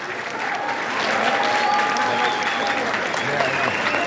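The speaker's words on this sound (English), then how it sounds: "They deserve a special round of applause for that." A graduation crowd at C-Tech applauds Hospitality Services students, with loud, sustained clapping that swells after the first second and holds steady, along with some voices.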